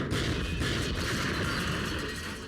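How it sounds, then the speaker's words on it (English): Loud, dense barrage of explosions and gunfire from a video game cutscene, a continuous rumbling roar of blasts and shots with no pauses. "Huge explosions."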